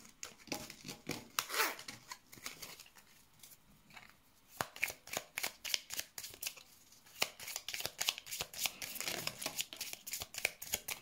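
Tarot cards shuffled by hand, a steady run of crisp riffling and slapping bursts close up, with no talk over them.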